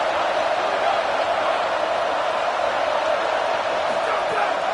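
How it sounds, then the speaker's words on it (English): A home crowd at an LSU football game roars in a dense, continuous wash of cheering that holds at a steady loud level from start to finish. "how nice is it to have the home crowd going absolutely bananas"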